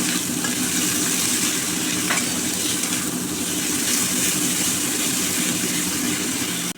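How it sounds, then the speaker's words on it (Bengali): Spice paste of Kashmiri chilli powder and turmeric sautéed and stirred in a pan, giving a steady, dense sizzle that holds evenly throughout with occasional faint scraping. "দিয়ে মশলাটা ভালো করে কষে নেব।"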